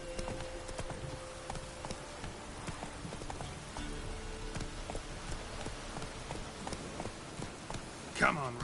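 Roach, the horse in The Witcher 3, galloping with a steady, rapid clip-clop of hooves at moderate loudness, while someone talks over it.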